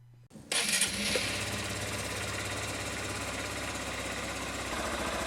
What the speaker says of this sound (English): While you're on the bike, Bob, could you just switch it on to let us hear what it sounds like?